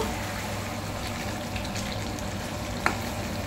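Chicken curry simmering in a pot while being stirred, with a soft continuous bubbling sizzle, faint scraping and one brief sharper clink near the end.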